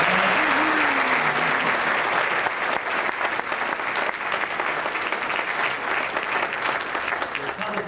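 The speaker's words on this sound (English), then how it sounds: "Let's give the YRs a round of applause." Sustained, dense applause from an audience at a political rally for the YRs, loud and steady throughout, with a brief voice near the start.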